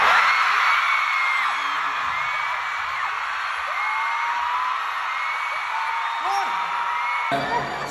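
A large crowd screams and whoops continuously at a Stray Kids fan event, loud and sustained, with occasional yells rising above the roar.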